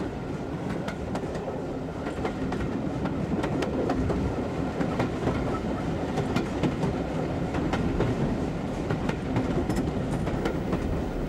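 A train running on a railway line in Devon: continuous loud rumble of wheels on track with rhythmic rail clicks, close and unbroken throughout.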